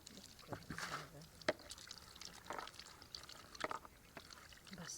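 Water poured from a bottle to wash hands and feet outdoors in a village, a soft intermittent splashing and trickling, faint and close, with light ambient noise.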